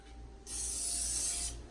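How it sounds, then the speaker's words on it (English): Cooking spray hisses from a can onto a hot pan in a single steady burst lasting about a second, close and loud over a low background hum, with a brief second puff at the end. "He's gonna spray pan, the hot pan."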